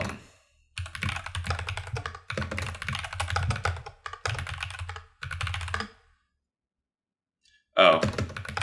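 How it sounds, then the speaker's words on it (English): Rapid typing clatters on a computer keyboard in bursts with brief gaps, close and clear, falling silent near the end before a sharp click; no one speaks. "I thought I typed an equal sign"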